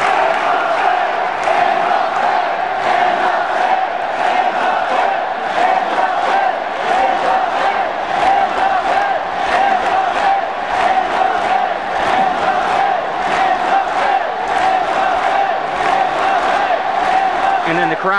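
A large crowd at a political campaign rally roars continuously, with loud cheering and massed shouting that stays dense and steady throughout and has rhythmic chanting pulses running through it.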